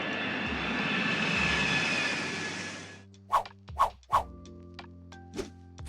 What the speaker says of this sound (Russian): пристегните ремни безопасности, мы взлетаем